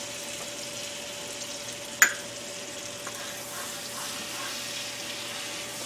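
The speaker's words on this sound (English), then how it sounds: "I'm making a roux, by the way." Butter and flour roux sizzles softly and steadily in a pan as a faint background hiss. A single sharp utensil tap lands near the middle.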